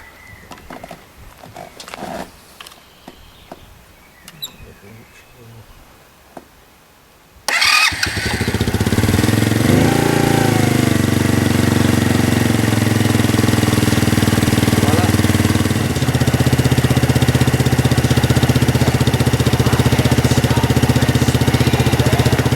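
A Romet Ogar 202 moped, fresh from an oil change, starts up after some quiet handling sounds, then settles into a steady, loud idle that runs on unbroken and close by.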